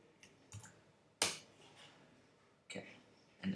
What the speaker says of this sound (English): Okay, then you click enter after each time.